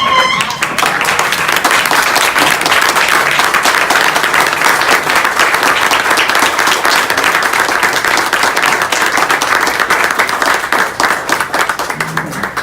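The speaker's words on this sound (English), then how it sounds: "if you would please stand and give him a round warm of applause" Standing audience members at a Rotary Club meeting give loud, sustained applause, a dense, even roar of many hands clapping close by for about twelve seconds before easing slightly.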